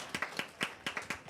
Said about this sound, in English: How about a big round of applause for Sandra?